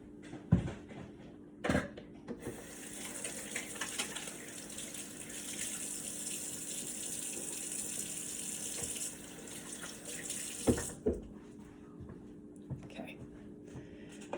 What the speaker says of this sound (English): I'm gonna rinse my hands off and I'll be right back.